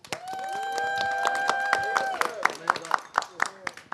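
Scattered audience clapping at an amapiano music press conference, sharp irregular claps under and after talk, building to louder separate hand claps near the end.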